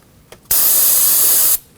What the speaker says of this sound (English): put some of that brake parts cleaner on a rag